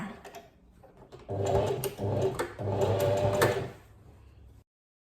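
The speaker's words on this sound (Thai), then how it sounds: "แล้วก็พลิกกลับด้าน แล้วก็เย็บอีกครั้งค่ะ" A sewing machine stitches a pants pocket seam, running in several quick bursts of close, steady mechanical whirring and clatter with brief stops between, then falling silent.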